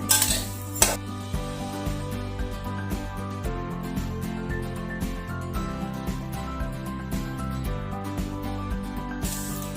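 Unpolished sesame seeds dry roasting in a pan for fenugreek ladoos, with a steady scrape and clatter of a spatula against the metal and soft rattling seeds throughout.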